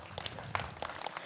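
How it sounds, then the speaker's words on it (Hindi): Applause from an audience at an outdoor public discussion in Masuri, Ghaziabad, heard as a short burst of scattered clapping over a low crowd murmur. "मैं चाहता हूँ कि भाई के लिए एक बार ताली हो जाए।"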